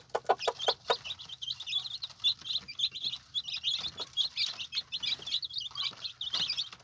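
Hen and her chicks in a backyard coop, a few low clucks at the start followed by a steady stream of high, rapid peeping and chirping from the chicks, close and continuous.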